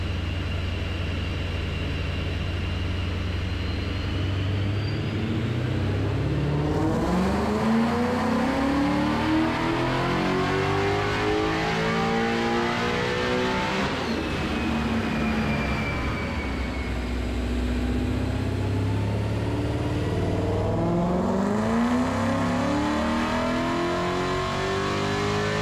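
A Procharger-supercharged Coyote V8 in a Ford Mustang revs hard on a dyno during power pulls, its loud engine note sweeping up through the rev range repeatedly, with no talking over it.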